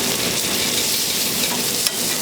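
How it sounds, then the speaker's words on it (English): A steak sizzles steadily in a hot pan as it is flipped, a continuous close, loud frying hiss with a brief sharper crackle near the end. "You'll see, I'll flip my steak this way."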